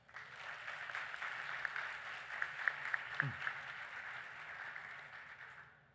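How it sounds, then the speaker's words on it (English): An audience at the 2024 Richmond mayoral forum applauds the candidates, with faint, distant clapping from a crowd swelling and fading over several seconds. "So please give them a round of applause."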